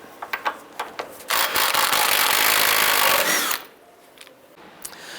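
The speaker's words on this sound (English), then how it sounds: "Using a 21mm socket, remove this nut." A power tool with a 21mm socket whirs steadily for a couple of seconds, loud and close, removing the outer tie rod nut on a 2002-2007 Jeep Liberty, preceded and followed by scattered clicks and clatter.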